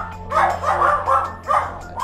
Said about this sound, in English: anytime someone drops off a package, there's excessive barking